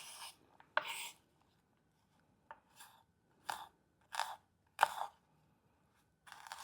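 A knife cuts across an onion on a cutting board, giving a series of short, crisp, close chopping strokes separated by brief pauses in an otherwise quiet room.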